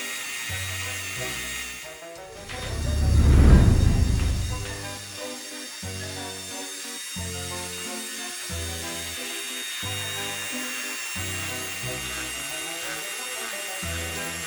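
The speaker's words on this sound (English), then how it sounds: "you must sand down the unnecessary parts and rough surfaces to make a smooth surface" A rotary tool sands a 3D-printed Pokemon figure, giving a thin, steady high whine over a rhythmic background music track, with a brief louder swell partway through. No speech.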